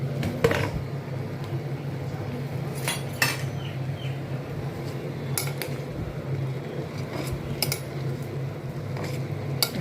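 Utensils clink and scrape against a pot as amaranth greens are stirred into simmering chana dal and onion kootu, with scattered metallic taps and soft wet squishing over a low kitchen hum.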